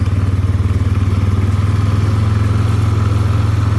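A farm ATV engine chugs loud and close at a steady, even pulse throughout the ride in south-east Indiana, with no talking over it.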